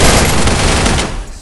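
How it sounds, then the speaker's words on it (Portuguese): Rapid automatic gunfire in the Free Fire mobile battle royale game, played on an iPhone 8 Plus during a tournament final: a loud, dense, continuous burst of shots for over a second, tapering off at the end. "Vou botar um tiro aqui. Eu vou te botar um tiro."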